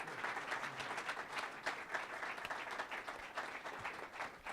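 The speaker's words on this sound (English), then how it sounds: "One more round of applause for our entrepreneurs coming all the way from Oklahoma." Audience applause for entrepreneurs from Oklahoma at a 1 Million Cups startup event in Springfield, a sustained crowd of hands clapping, fairly distant and even in level.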